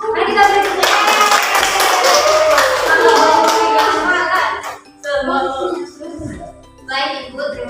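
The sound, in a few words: classroom applause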